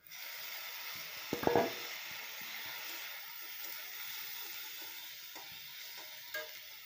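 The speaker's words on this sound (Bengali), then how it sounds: "পেঁয়াজগুলো দেখো এভাবে ভেজে নেব।" Chopped onions and tomatoes fry in a pan with a soft, steady sizzle, joined by a brief clatter of stirring near the start and a faint scrape later on.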